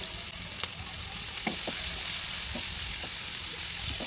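Onions fry in oil in a pan as the browning continues, giving a steady close sizzle with a few soft clicks of a spoon against the pan and no talking.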